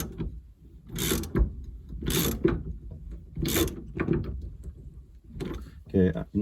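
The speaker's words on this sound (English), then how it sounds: "we're going to use the nut to press it onto the shaft" Ratchet wrench tightening a 21 mm nut to press a part onto a shaft on a 1985 Camaro during an LS engine swap, several short bursts of ratcheting clicks in close succession, loud and close, with a voice talking between them.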